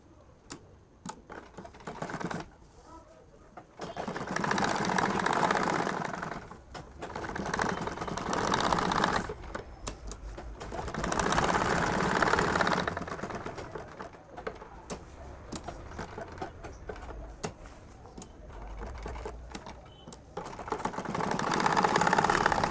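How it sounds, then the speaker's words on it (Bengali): A sewing machine stitches along the round neck of a panjabi, running in several bursts of steady rapid clatter with short quiet gaps between them. "এখন এই গলার সাইড দিয়ে একটা সেলাই দেব একদম কাজ দিয়ে"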